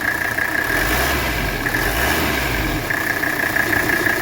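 A 1984 Mercedes 300SD diesel engine idles steadily with 63,000 miles on it, giving a constant close, loud rumble and clatter with a faint high whine on top.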